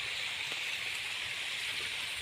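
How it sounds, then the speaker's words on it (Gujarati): Heavy rain pouring down on farm fields, a dense, even hiss of falling water heard close and steady, alone with no voices. "તો ભાઈ વરસાદ થઈ ગયો છે ચાલુ"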